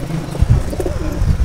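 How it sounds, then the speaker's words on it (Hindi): Pigeons of Pakistani and Indian breeds coo close by, a few soft, low, throaty coos rising and falling over a brief stretch with no voices. "ए बेहतरीन अच्छे कबूतर ने"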